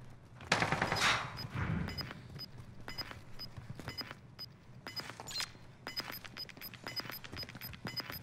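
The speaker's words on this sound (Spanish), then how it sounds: "Disparen, disparen, disparen." Rapid gunfire in Call of Duty: Modern Warfare, a dense volley followed by a steady string of sharp shots and short bursts at mid distance, with faint game ambience underneath.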